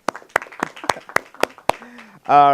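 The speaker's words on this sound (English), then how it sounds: "Let's give her a round of applause." Sparse claps from a small audience greet a professor introduced on a film festival filmmaker panel, about seven distinct close hand claps, ending in a loud tonal sound.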